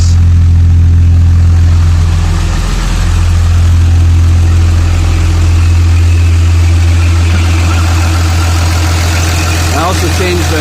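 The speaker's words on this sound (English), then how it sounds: "So she's running on all 6 cylinders now." A 2007 Ram 3500 with the 5.9 diesel idles loud and close on all six cylinders, a deep steady rumble with a voice talking over it.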